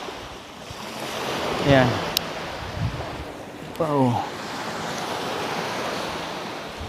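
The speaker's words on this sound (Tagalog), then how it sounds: "hindi masyadong malakas yung alon" Small, gentle ocean waves washing onto a beach in Albay, a steady surf wash with swells rising and falling, while people exclaim briefly over it.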